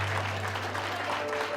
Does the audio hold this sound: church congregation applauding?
yes